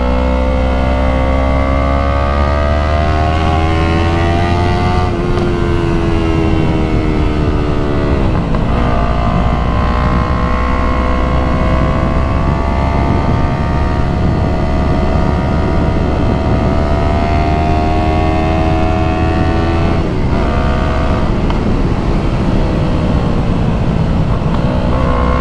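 A Yamaha MT-03 motorcycle fitted with a full exhaust, ridden along twisting roads. The engine drones loudly and steadily, its pitch rising and falling with throttle and gear changes, with no talking.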